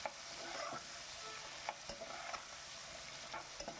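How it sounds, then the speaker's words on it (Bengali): Diced carrots and pre-fried potatoes fry lightly in a pan for vegetable pulao, a soft continuous sizzle broken by several sharp scrapes and clicks of a stirring spoon, with no talking. "আর এখানে ভেজে রাখা আলুটা অ্যাড করে দিলাম, দিয়ে একটু হালকা করে ভেজে নিচ্ছি"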